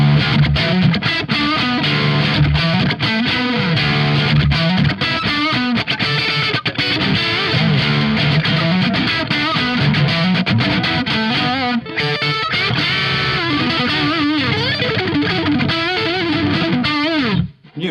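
A 1980s ESP Mirage Deluxe electric guitar on its single-coil pickup plays through heavy distortion, with a dense, continuous sustained tone and fast melodic runs, loud and unbroken.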